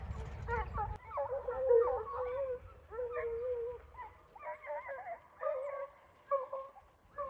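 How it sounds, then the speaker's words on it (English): A dog chasing a bear down into a valley field yips and whimpers in repeated short, high bursts, sounding fairly distant and faint across the open ground. "See a dog down there."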